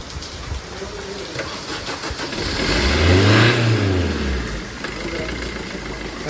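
A car that had been failing to start, with its fault still unknown after a battery check, runs and revs. The engine note swells to a loud peak midway, then settles back to a steady close-up run.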